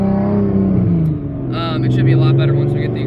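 Single-turbo Nissan 370Z running without its exhaust, engine accelerating with a loud, close rising roar that drops briefly and then surges again as boost builds.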